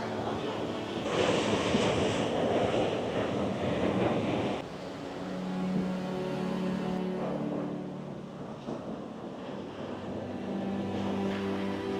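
Continuous surf noise from waves breaking on rocks, loud at first then easing to a softer wash, with low wind rumble throughout and no talking. Recorded on the coast of Madeira.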